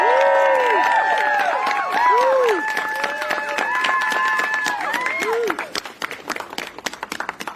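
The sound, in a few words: audience applause at a rally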